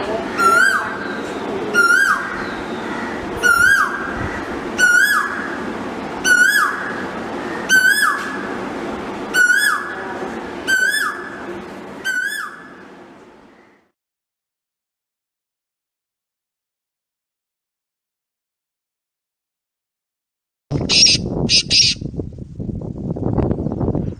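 A loud, repeated Asian koel call rings out about nine times in a steady rhythm, then silence, followed by a brief burst of noise with a faint chirp.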